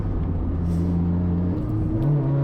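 An Acura RSX race car engine drones steadily at Sonoma Raceway, a close, loud in-car hum with a pitch shift near the end as the gear changes.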